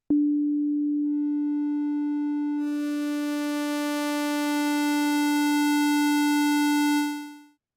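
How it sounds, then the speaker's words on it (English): A pure electronic tone from a synthesizer holds one pitch while harmonics gradually build in, sweeping from sine toward sawtooth and square waves, turning the smooth hum brighter and buzzier before it fades out. "So right now we're playing a sine wave."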